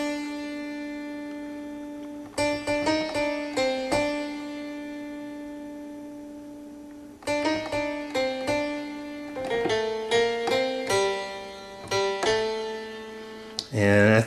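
Single piano notes pick out the right-hand melody of a song in two short phrases split by a held note, each note struck clearly and left to ring, close and solo with no voice.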